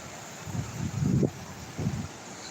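Wind blows at Cazenovia Park falls in Buffalo, New York, as a steady rushing noise with a few louder gusts buffeting the microphone.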